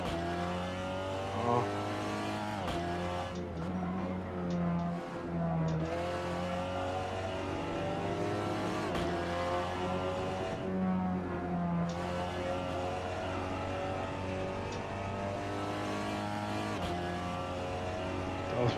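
Race car engine in a racing video game at Laguna Seca, with a steady, loud droning tone that climbs and falls through gear changes as the car accelerates, and brief dips between shifts.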